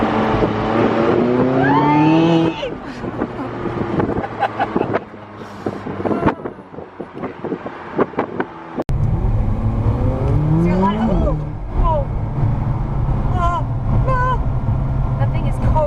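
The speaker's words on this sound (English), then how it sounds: "Did you hear that hissing noise? That's the turbo kind of spooling up a little bit." Lamborghini supercar on a Santa Monica street, its engine revving hard through rising gear pulls with a faint turbo hiss spooling in, loud and close, with people talking and exclaiming over it.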